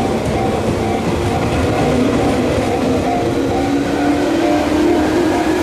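A Tobu Noda Line train pulls out of Tsukada Station with a loud, steady rolling rumble and a slowly rising motor tone from a resistance or chopper-control car.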